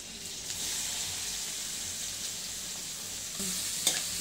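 Garlic and four small onions frying in hot oil for a kudachya shenga bhaji, a soft steady sizzle with stirring and a brief clink near the end.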